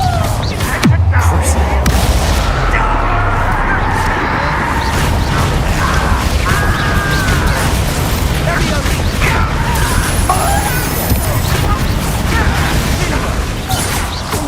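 Repeated Confringo fire-blast spell explosions from Hogwarts Legacy, loud booms and crashing bursts recurring over steady game rumble and mechanical clatter, with a voice speaking between blasts.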